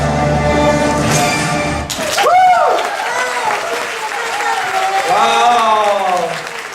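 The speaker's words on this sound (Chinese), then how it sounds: "我们再给少杰一个掌声" An audience at a Christmas gala applauds after a performer's act, with a short dense burst of clapping followed by someone talking loudly over a lingering crowd murmur.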